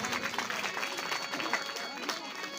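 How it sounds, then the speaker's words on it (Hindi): Audience applause at a Shrimad Devi Bhagavat Mahapuran katha, a Hindu religious discourse in Kadwaliya: steady, dense clapping from a crowd that continues evenly through the whole stretch. "आप लोग तालियां बजाते रहें।"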